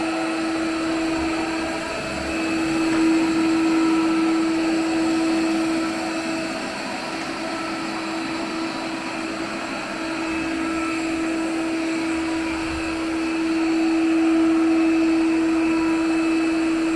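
A Xiaomi Mi Robot Vacuum E10 runs in turbo vacuum-and-mop mode, giving a steady, close whirring hum with a constant motor tone that swells slightly at times, with no talking.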